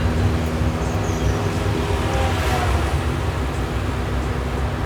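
A custom widebody VW truck on air suspension drives along, its steady low engine and road rumble filling the cabin at a constant level, with no one talking.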